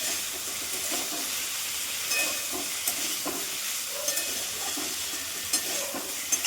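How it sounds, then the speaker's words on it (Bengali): Green chillies fry with nigella seeds and tomato in a pan, a steady close sizzle and hiss with scattered crackles and occasional stirring scrapes throughout, with no voices. "এটা একটু ভাজা ভাজা হোক,"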